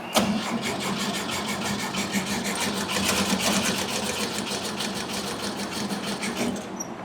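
A 1971 VW bus engine cranks over and over without catching, a fast, even, mechanical churning rhythm held for about seven seconds, loud and close with no talking.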